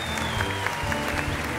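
A Turkish TV talk-show studio audience claps steadily for an arriving guest, a dense, even wash of applause from many people with a faint tone running underneath.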